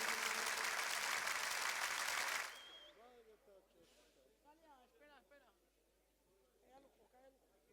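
Applause at a Bulgarian wedding celebration, loud crowd clapping for about two and a half seconds that then stops abruptly, leaving quiet background voices and chatter.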